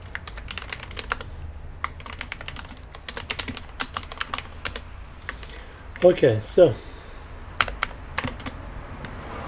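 Clicky mechanical computer keyboard being typed on, a quick run of light, sharp clicks spread throughout, with someone briefly speaking partway through.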